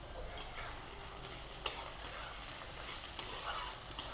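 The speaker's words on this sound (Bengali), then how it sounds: "দিয়ে আবার একটু নাড়াচাড়া করব।" Chicken and dried chillies sizzle steadily in a hot pan while being stir-fried, with soft scraping and occasional clacks of the utensil against the pan.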